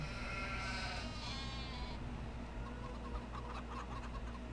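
Sheep bleating and goats calling in the Farming Simulator 25 video game, several overlapping bleats with a clucking chicken-like call, steady and fairly close over a constant low engine-like hum, no talk.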